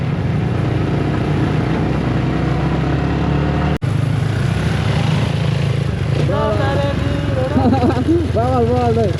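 A Yamaha MT15 125 motorcycle fitted with an Akrapovic exhaust runs with a steady, low engine drone, and voices talk and call out loudly over it toward the end.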